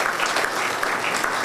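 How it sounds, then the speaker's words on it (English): A congregation in the historic St. John's Native Baptist Church applauds during a law enforcement service program, dense and continuous clapping that stays loud from start to finish with no talk over it. "Let's give them all another round of applause."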